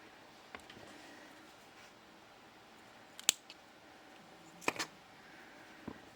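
Beading wire for a bracelet is cut with a couple of sharp, quiet snips in a still room, followed by faint handling clicks.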